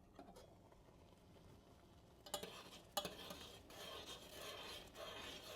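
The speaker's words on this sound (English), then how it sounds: "we're gonna go ahead and just stir this sauce up a little bit" Quiet scraping and gentle bubbling in a pan as something is stirred, with a couple of sharper clinks partway through.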